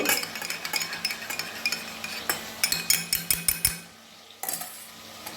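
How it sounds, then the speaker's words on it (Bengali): A spoon briskly whisks a spoonful of sour yogurt in a small bowl, giving a rapid run of light clinks and taps that pause briefly before starting again. "এক চামচ মতো টক দই আমি ফেটিয়ে নেব"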